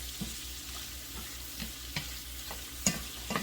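Shrimp cooking in a pan, a low steady sizzle with light taps and clicks of a utensil against the pan, quiet and without talk.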